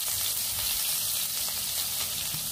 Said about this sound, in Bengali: আমার তেলটা গরম হয়ে গেছে। আমি এখানে পেঁয়াজ কুচি দিয়ে দিব।